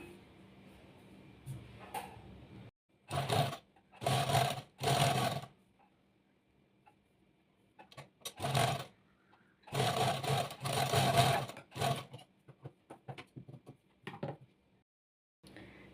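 A sewing machine stitches the shoulder seam of a petticoat at a half-inch seam allowance, running in several short, fairly loud bursts separated by quiet pauses, with no talking.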